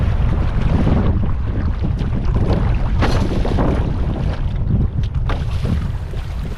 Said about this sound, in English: It's pretty breezy though.